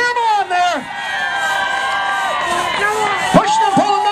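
An outdoor crowd yells and whoops to urge on racers in a timber sawing contest in Sisters, Oregon, voices overlapping in long sustained shouts with a sharp thump partway through.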